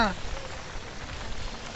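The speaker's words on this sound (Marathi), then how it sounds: "कारण का आता पाऊस पडतोय." Rain falling outdoors near a hilltop village, a steady, dense hiss of drops on surfaces that continues without a break at moderate loudness.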